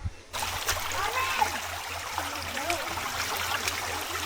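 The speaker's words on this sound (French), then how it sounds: "Ici on remonte un petit ruisseau." Bare feet wade up a small shallow stream on a barefoot trail in Belgium, with steady splashing and trickling water throughout, close and fairly loud, and faint voices in the background.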